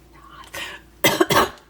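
A single person lets out a quick cough, a short rough burst followed by two louder harsh bursts, close and brief.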